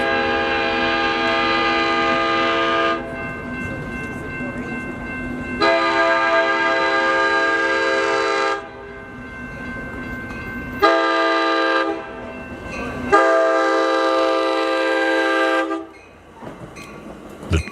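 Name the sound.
Amtrak passenger train approaching with horn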